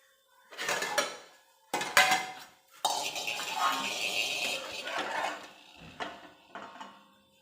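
A spatula scrapes and clinks against a pan as fried bhagar and potato are lifted out onto a plate, in several close bursts of metal clatter with short pauses between them.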